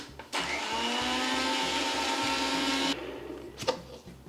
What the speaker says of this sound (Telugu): దీన్ని కూడా గ్రైండ్ చేసేద్దాం.